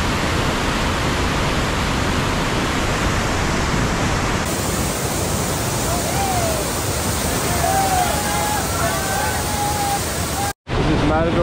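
Steady broadband roar of a rushing waterfall on Bull Run in West Virginia, heard while kayaking, constant and loud throughout, with faint chirping tones over it and a brief dropout near the end.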